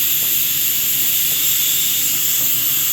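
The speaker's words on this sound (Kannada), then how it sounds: "ಒಂದು ವಿಷಲ್ ಬರ್ತಾ ಇದೆ" A pressure cooker cooking mint chicken biryani lets off a loud, continuous steam whistle and hiss, close and steady for the whole stretch with no talk.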